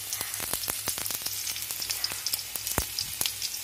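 Mustard seeds crackle and splutter in hot oil in a pan, a dense, steady sizzle peppered with sharp pops, close and moderately loud, with no talking.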